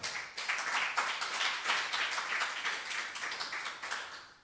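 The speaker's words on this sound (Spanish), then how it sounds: "Dele fuerte el aplauso al Señor esta tarde." A church congregation claps steadily and loudly for about four seconds, a dense, even wash of many hands with no voices over it.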